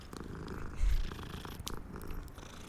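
A cat in Hogwarts Legacy purrs while being petted, a low, steady rumbling purr close up with a brief louder swell, over a light game background and no talk.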